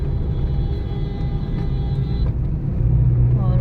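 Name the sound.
car overtaking on a mountain road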